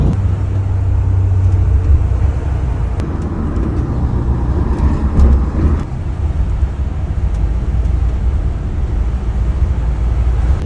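A rented U-Haul truck rolling along the Van Wyck highway, heard from inside the cab as a steady, loud low rumble of engine and road noise with a few clicks and rattles, with no talk.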